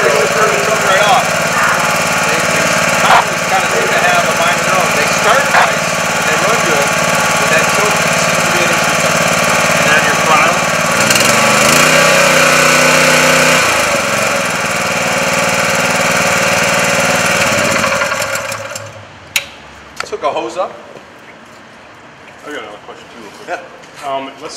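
Small engine on a Genesis rescue tool power unit runs loud and steady with a knocking idle for most of the stretch, then cuts off, leaving quieter clicks and handling noises; a voice talks over it throughout.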